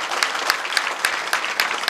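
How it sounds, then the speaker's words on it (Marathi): Audience at a kirtan in Maharashtra claps together in a brief, loud, dense burst of applause, with sharp rhythmic peaks standing out from the crowd. "या सर्वांसाठी एकदा जोरदार टाळ्या वाजवा."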